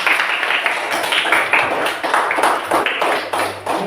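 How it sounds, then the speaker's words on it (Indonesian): A classroom of students claps together after their teacher announces good grades, a dense, steady patter of many hands lasting several seconds, with faint voices mixed in. "Tepuk tangan semua."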